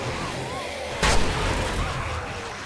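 A blunderbuss firing once in the survival game 7 Days to Die, a single loud booming blast that trails into a rumbling decay, with muffled game ambience before and after.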